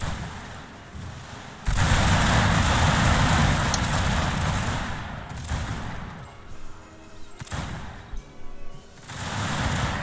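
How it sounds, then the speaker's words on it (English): Prussian light infantry rifle fire in Shogun 2: Fall of the Samurai, a massed, rapid crackle of many rifles firing together that swells loudly and then rolls on in uneven waves, with a few sharper individual cracks standing out. "these guys are firing so rapidly that you think that you have to start realizing, are they even loading their guns?"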